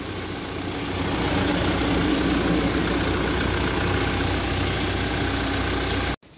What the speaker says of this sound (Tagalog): Ito yung pinaka-engine niya, yung tunog ng makina.